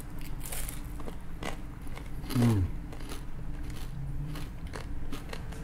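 Soft shell crab tempura, deep-fried soft-shelled crab after molting, crunched between the teeth in a single short burst of biting, with quiet murmured sounds around it.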